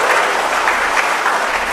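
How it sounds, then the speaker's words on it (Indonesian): A church congregation gives a short burst of even, sustained clapping that fills the room, with no voices rising above it. "Tepuk tangan saja kasih bapak-bapak ini."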